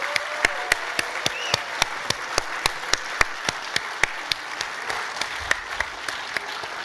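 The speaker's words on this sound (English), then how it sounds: "for all of us to give John Chauvin a huge round of applause" Applause from the audience at the 2024 SIEPR Economic Summit. Regular, sharp claps sound close to the mic over a wash of wider clapping, and the applause holds steady throughout.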